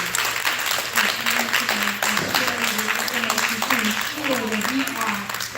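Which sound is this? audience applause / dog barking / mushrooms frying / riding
audience applause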